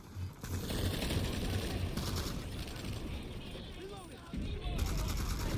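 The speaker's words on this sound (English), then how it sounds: "That's an NS-11 that he's using. He's shooting at me with." NS-11 rifle fire in Planetside 2, dense rapid gunfire and mechanical clatter running almost continuously for about five seconds, mixed with other game sounds and someone talking over it.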